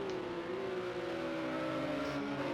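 GT3 race cars, including Porsches, sweep past in a sim racing game at Fuji GP Circuit, with a steady engine drone rising and falling in pitch as they go by, continuous and moderately loud with no talk.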